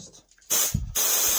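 Compressed air from a compressor hose blowing into the brake hose port of a Honda Varadero 125 front brake caliper, two loud close hissing blasts separated by a short gap.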